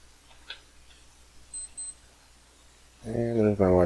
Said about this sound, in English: there's my watch beeping